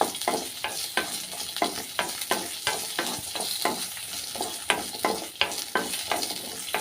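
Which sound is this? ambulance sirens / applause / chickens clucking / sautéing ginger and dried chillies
sautéing ginger and dried chillies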